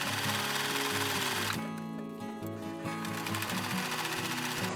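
A sewing machine runs in loud, steady bursts as it stitches the seams of small denim gnome jeans, with brief pauses and speed changes between runs and no talking.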